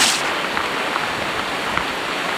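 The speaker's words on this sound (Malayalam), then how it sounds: "മഴയുടെയും അതുപോലെ ഈ ഒരു കാടിൻ്റെയും പിന്നെ അതുപോലെ ഇങ്ങനെ വെള്ളമൊലിച്ച് വരുന്നതിൻ്റെയൊക്കെ ഒരു ശബ്ദം നല്ല രസമാണ് കേൾക്കാനായിട്ട്" Steady rain falls in a forest with water flowing nearby, a dense continuous hiss at moderate loudness with faint drips, and no voices.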